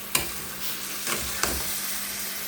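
Spiced chicken sizzles in a pan as it is stirred, a steady close hiss with a few sharp scrapes and clicks from the spoon, and no voices.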